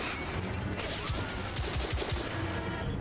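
Gunfire in the Victorian London shooter The Order: 1886, several sharp close shots in quick succession over a dense, noisy battle background.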